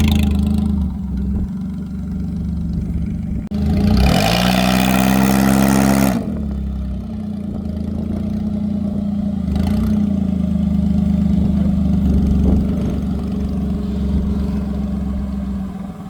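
A V6 Commodore drag car on its first nitrous run idles loudly and steadily, then bursts into one sharp rising rev lasting about two seconds before settling back to a rumbling idle.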